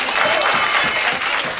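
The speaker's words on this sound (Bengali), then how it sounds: "তাদের জন্য একটা জোরে করতালি হবে।" A crowd applauds the teachers at a university BBA batch rag day event, a loud steady wash of clapping hands that continues evenly throughout.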